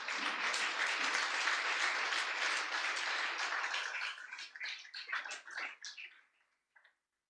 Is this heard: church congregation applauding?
yes